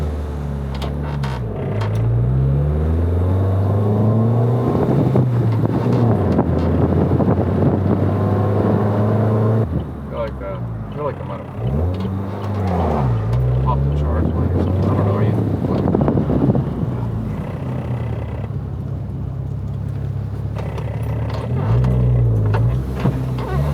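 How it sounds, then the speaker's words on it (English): A Chevy Sonic RS being driven on the road during engine break-in, a loud droning engine note rising and falling through gear changes, with heavy wind buffeting on the microphone and someone talking over it. "I'm gonna have to get that motor quieted down, man."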